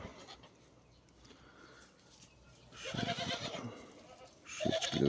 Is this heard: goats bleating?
yes